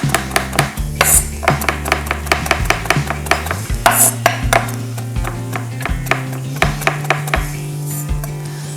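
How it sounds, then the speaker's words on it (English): Fresh thyme is chopped with a knife on a wooden board, a quick run of close, sharp taps in an uneven rhythm with a low resonant thud from the board, loud and alone with no talk. "I am going to chop this up."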